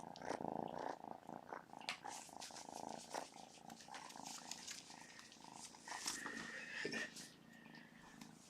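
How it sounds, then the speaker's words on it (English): A kitten purring up close in a soft, steady, rumbling rhythm, very quiet, with a faint voice whispering over it at times. "Purr for everybody."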